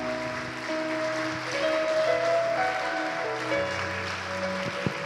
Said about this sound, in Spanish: Dale un fuerte aplauso ahí donde estás.